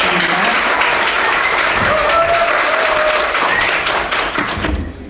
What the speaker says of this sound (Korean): 나오실 때 격려의 박수 부탁드립니다.